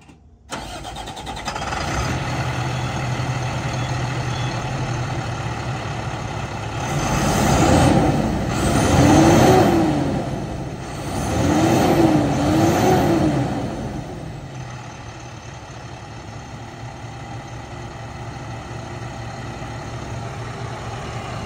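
A 2005 International 4300 Miller tow truck wrecker with about 8,400 engine hours cranks and fires up, swells through a few revs, then settles into a steady diesel idle, heard close with no voices.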